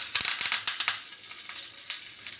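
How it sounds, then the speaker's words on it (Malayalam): Curry leaves hit hot oil with mustard seeds, giving a burst of quick crackles and pops that fade into a quieter, steady hiss, faint and close, with no talking. "കടുകിൻ്റെ കൂടെ കുറച്ച് കറിവേപ്പില ഇട്ടു"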